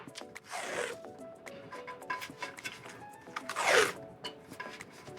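Adhesive tape pulled off the roll in several rasping strips to hold down a sublimation print, close and fairly quiet, with light handling noises between pulls.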